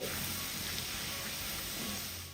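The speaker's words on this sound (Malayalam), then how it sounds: "ഇനി ഇതിലേക്ക് ഒരു ആറ് വെളുത്തുള്ളി ചെറുതായിട്ട് കുഞ്ഞു കുഞ്ഞായിട്ട് അരിഞ്ഞത് ഇതിലേക്ക് ഇട്ട് കൊടുക്കാം" Six cloves of finely chopped garlic sizzle in hot melted fat in a pan, a steady, even hiss of frying that holds at a constant level throughout without any talking.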